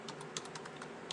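Rapid keystrokes on a computer keyboard, a quick uneven patter of clicks close to the microphone over a soft background hum, with no voices.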